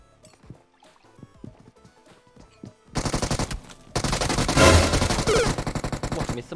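Gunfire in the mobile battle-royale game PUBG Mobile: a few scattered, lighter shots give way to loud, dense automatic bursts that keep rattling almost nonstop through the second half.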